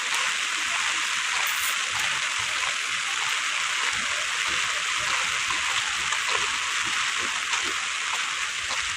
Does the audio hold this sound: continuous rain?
yes